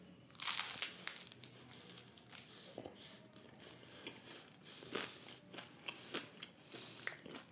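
Crunchy cheese and corn taco from La Pino'z bitten into, a few sharp close crunches near the start followed by quieter scattered chewing and crinkling.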